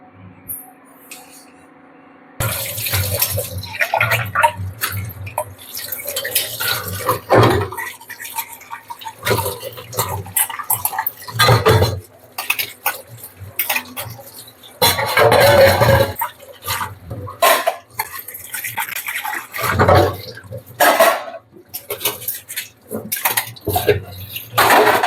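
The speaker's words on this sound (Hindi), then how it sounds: "भैया ये 2-4 बर्तन है, इन्हें और धो देती हूँ।" A handful of dishes washed under a running kitchen tap, with continuous splashing water and clinks of utensils, close and loud, and a voice speaking now and then.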